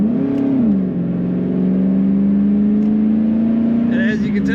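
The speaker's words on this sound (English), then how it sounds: "the kickdown does work on that automatic transmission. The acceleration is very good and the sound is great" A 2002 Chevrolet Camaro Z28 convertible with automatic transmission kicks down and accelerates, its engine droning loud and steady close by with a brief pitch shift at the start.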